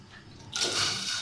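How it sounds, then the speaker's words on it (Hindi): A glass of water poured into a cooking pot in a home kitchen while preparing stuffed bitter gourd, a steady close splashing pour that starts abruptly and continues to the end. "पतीली में हम 1 गिलास पानी डालेंगे,"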